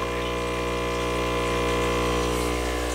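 An aquarium air pump runs in a betta fish breeding tank, giving a steady, loud mechanical hum with a continuous wash of bubbling water and no break in the sound.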